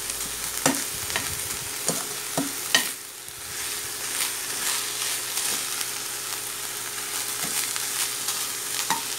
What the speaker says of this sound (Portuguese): Agora vamos refogar essa cebola.